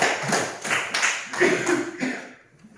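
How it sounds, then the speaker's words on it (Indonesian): A short burst of hand clapping in a classroom, several quick rounds of claps that fade out within a few seconds, with no talk over them. "tepuk tangan untuk kita semua"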